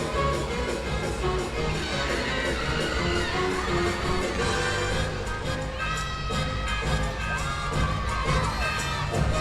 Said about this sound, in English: Sarah's teammates on the side cheering her on, getting her all pumped up for her first tumbling pass